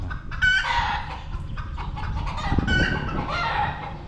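Chickens cluck in short bursts close by at a temple in Vientiane, Laos, with a rooster crowing among them, and no talking.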